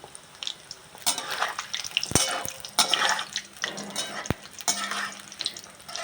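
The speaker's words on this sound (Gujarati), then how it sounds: "અને હવે મેં ઢોકળી પહેલાં તળવા નાખી ને ત્યારે તેલ ખાસ કર્યું" Dhokli dumplings fry in hot oil over medium-low flame, a steady sizzle and bubble broken by sharp clinks and stirring scrapes.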